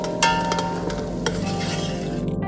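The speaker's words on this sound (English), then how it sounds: "Again, a nice gentle sizzle." Onions and potatoes frying in a pan with leftover holiday food being stirred in, a steady gentle sizzle with soft scraping and a couple of brief clatters, heard without talk.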